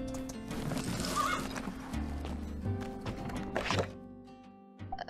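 A horse in the My Time at Sandrock video game, with hooves clip-clopping in a steady rhythm and a clear whinny, heard alone and up close.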